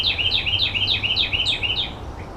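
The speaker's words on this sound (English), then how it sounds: "At least those birds are happy." Small birds chirp in a quick, even series of about seven bright, rising-and-falling tweets, fairly close and clear over a low steady hum.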